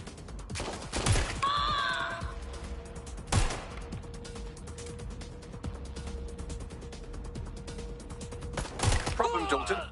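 Gunfire in the video game Watch Dogs Legion comes as loud bursts of shots and clattering mechanical weapon noises against a steady background tone, with a few sharp reports standing out at intervals.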